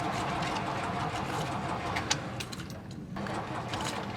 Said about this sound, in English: Let's hope this engine fires up.